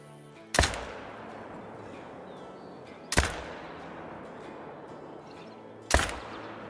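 Three sharp rifle shots ring out in the hunting game Call of the Wild, evenly spaced a few seconds apart, each loud crack trailing off in a long echoing tail.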